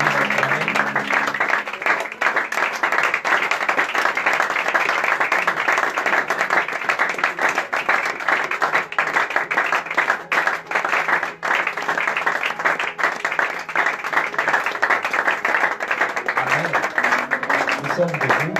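A church congregation applauds and cheers for the Lord in sustained, loud, dense clapping that carries on without pause throughout.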